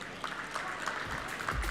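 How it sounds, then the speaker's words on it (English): An audience at a hotel and restaurant association regional convention applauds an award presentation, a short burst of steady, somewhat distant clapping with low thumps near the end. "Let's give him a huge round of applause"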